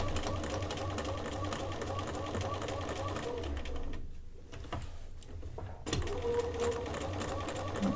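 A sewing machine stitches over a logo tag on the lining of a double zipper pouch, a rapid mechanical whir with steady ticking that stops briefly for a pause before resuming, quiet and close, with a voice speaking at times.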